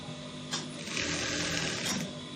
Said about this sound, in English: You sew.